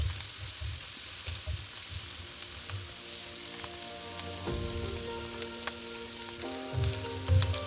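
Egg noodles frying and being tossed in a pan over a high flame, a steady soft sizzle running throughout with a few scraping and clattering stirs near the end, no talking.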